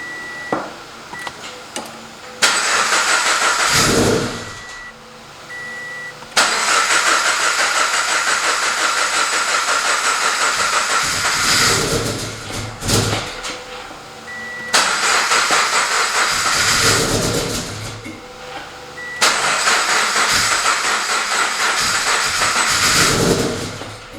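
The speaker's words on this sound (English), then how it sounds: "Shut off the vehicle. Restart everything." Subaru BRZ engine being restarted repeatedly, loud hissing, rushing running bursts broken by short pauses and cranking-like gaps, close and harsh, with no voices.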